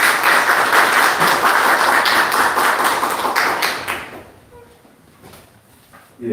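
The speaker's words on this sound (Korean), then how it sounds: "박수를 많이 주십시오" An audience applauds at a Korean church forum, dense clapping for about four seconds that then fades to scattered claps and room noise.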